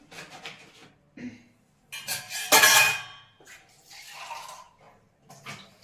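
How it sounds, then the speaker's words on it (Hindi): Dishes, pots and steel utensils clatter and clink in irregular bursts while being washed, with short gaps between handling sounds, close and fairly loud. "यहाँ मैं बर्तन साफ कर रही हूँ।"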